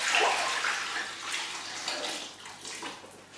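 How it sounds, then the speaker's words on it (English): Fresh water splashes and pours steadily into a bowl of seitan dough, loudest at the start, then trickles and tapers off. "And now we repeat this and put some more fresh water over it."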